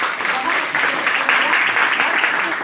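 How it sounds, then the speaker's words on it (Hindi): An audience in a teacher training session applauds, dense, even clapping from many hands that holds steady throughout. "सर के लिए मैं चाहती हूँ सदन से एक बार तालियां होनी चाहिए।"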